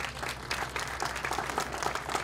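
Audience applause at the dedication ceremony for the new Vashon passenger-only water taxi M.V. Sally Fox, a steady wash of many hands clapping throughout, fairly close and uninterrupted.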